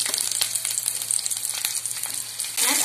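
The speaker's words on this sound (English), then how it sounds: "and then fry for some time" Garlic, ginger, dried coconut and onions fry in oil in a pan, giving a dense, continuous close sizzle with scattered crackles and a few stirring scrapes, with no one speaking.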